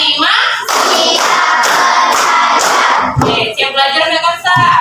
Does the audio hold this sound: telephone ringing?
no